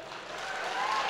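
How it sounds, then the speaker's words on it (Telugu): Applause from an audience at the F3 film event, a brief burst of dense clapping in a large hall that swells slightly in under two seconds. "ఇక్కడ చప్పట్లు కొట్టచ్చు బాగానే,"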